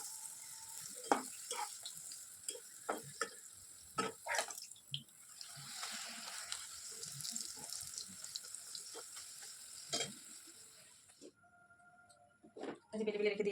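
Parathas frying in a pan give a steady close hiss of sizzling oil, broken by sharp clinks and scrapes of utensils, with a voice now and then in the background.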